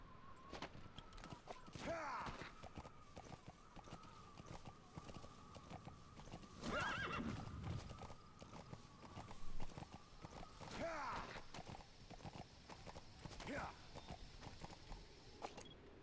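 A horse in Metal Gear Solid V: The Phantom Pain clip-clops at a walk with several whinnies spread throughout, set against a steady game background hum.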